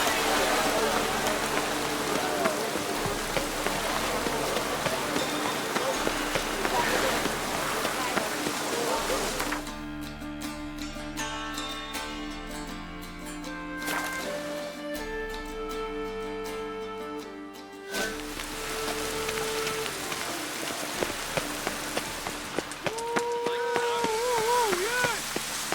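Steady rain hisses across the open world of The Witcher 3, a dense, even patter that runs through the whole scene beneath game music and character dialogue.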